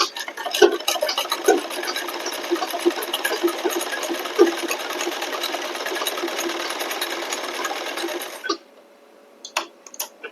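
A sewing machine runs fast and steady, its needle chattering in a rapid even rhythm while stitching a belted blouse, then stops abruptly, leaving a few faint clicks.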